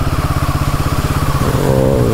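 A Royal Enfield Himalayan motorcycle engine thumps steadily and close on a monsoon ride, a regular low pulse that swells into a slightly higher rev near the end.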